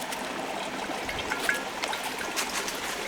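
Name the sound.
portable water filter pump spitting water out from a bucket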